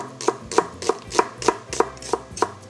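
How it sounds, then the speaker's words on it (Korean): A knife slices through an onion on a cutting board while vegetables are readied for pork and kimchi stew, giving eight to nine crisp, evenly spaced chops close up with no talk. "양파 한 개 슬라이스로 썰어 준비하고요"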